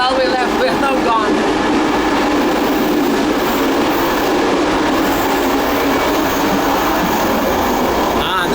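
A Moroccan passenger train running, a loud continuous rumble and rattle of wheels on track heard from inside a carriage, with faint talk mixed in.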